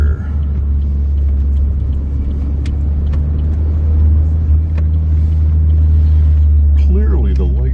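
A car engine pulls hard in second gear on a drive to work, a loud, steady low rumble filling the cabin throughout, with a voice speaking briefly near the end.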